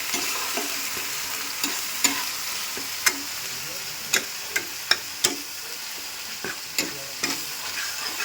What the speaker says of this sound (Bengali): গ্যাসের ফ্লেমটা লো করে ভালো করে এটাকে মিক্স করে নিতে হবে ভালো করে কষিয়ে নিতে হবে